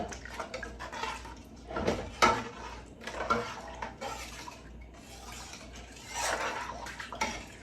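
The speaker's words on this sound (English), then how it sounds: "Going to give that a stir." Spoon stirring lentil and black bean chili in a pot, with metallic scrapes and clinks coming in several separate bursts over a soft wet sloshing, close up.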